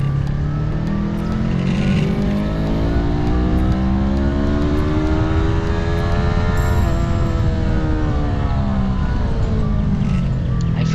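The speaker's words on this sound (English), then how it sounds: "Just shifted down the gear and did a max rest." A motorcycle on the high-altitude road to Khardung La in Ladakh, shifted down a gear and revved hard, its engine note rising and falling in steady sweeping pitch arcs, loud and close throughout with no pauses.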